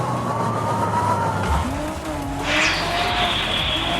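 Video-game car engine from Fortnite revving and accelerating with tire squeal and skidding, loud and steady throughout, with a rising whine near the end and no talk.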